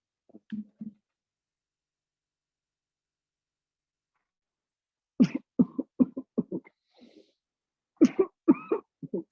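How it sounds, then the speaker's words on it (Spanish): A person gives deliberate coughs during a mechanical ventilation demonstration, one short burst early on, then a rapid run of sharp coughs after a pause and another cluster near the end, close and clear in a quiet room. "Ahora vamos a hacer la tos."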